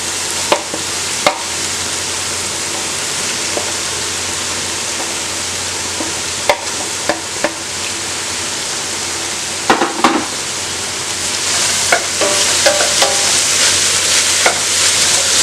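Ginger, garlic and green chili fry with onions in hot oil for a Malabar fish biriyani, giving a steady close sizzle broken by occasional spoon scrapes and stirring clatters, growing slightly louder toward the end.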